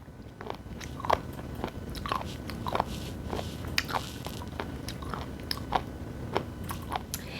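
Someone eats the firm end pieces of raw abalone sashimi, biting and chewing in a steady run of loud, close crunches.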